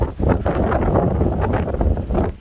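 Loud wind buffeting the microphone in steady low roaring gusts, with no voices.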